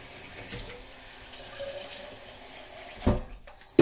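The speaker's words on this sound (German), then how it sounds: "dann machen wir jetzt noch schnell ganz kaltes Wasser in den Shaker." Very cold tap water runs and splashes into a shaker, a soft steady trickle with faint gurgling, followed by a couple of louder knocks and clatters near the end.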